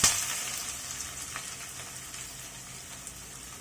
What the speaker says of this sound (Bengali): এখন এর ভিতরে দিয়ে দিচ্ছি কুচি করে রাখা পেঁয়াজ